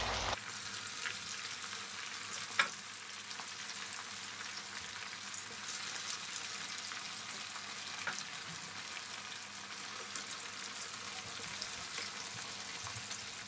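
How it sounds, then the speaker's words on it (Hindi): Chicken pakoras crackle and bubble in reheated oil, a soft, even frying hiss that runs continuously, with one small clink near the start. "ऑयल को हमने दोबारा गर्म कर लिया और इसमें दोबारा जाएंगे चिकन पकौड़े"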